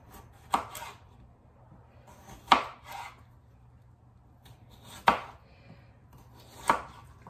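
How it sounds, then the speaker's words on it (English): A knife chops potatoes on a cutting board while a sheet pan dinner is prepared, four separate sharp chops spaced a couple of seconds apart over a low steady hum. "So it's just a lot of chopping"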